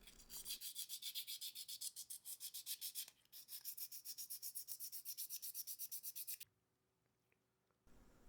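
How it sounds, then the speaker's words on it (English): Rapid rhythmic back-and-forth sanding by hand smooths a rough first coat of UV resin on a handmade wooden swimbait, close and crisp, pausing briefly midway and then stopping into near silence. "To fix that, I'm gonna be sanding it smooth."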